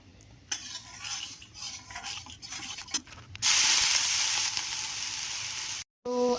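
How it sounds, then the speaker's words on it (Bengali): Chopped potatoes hit hot white oil in a wok and burst into a loud, steady sizzle, preceded by some clinks and stirring scrapes, with a brief cutout near the end before the frying resumes. "কড়াইতে অল্প একটু সাদা তেল দিয়ে নিলাম। দেন এবার ওর মধ্যে আমি কেটে রাখা আলুগুলো দিয়ে দেবো কুচি করে।"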